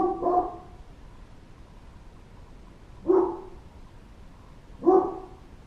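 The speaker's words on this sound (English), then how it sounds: "the dog's putting in her" A dog barks three times, each a loud, close bark with a pause of about two seconds in between. Quiet background, no voices.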